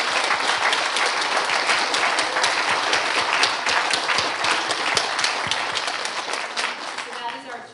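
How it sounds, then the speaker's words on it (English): Loud, sustained applause from the crowd at an 8th grade graduation ceremony, many hands clapping in a thick continuous roar that holds for nearly eight seconds before easing slightly at the end. "Let's have a really loud round of applause."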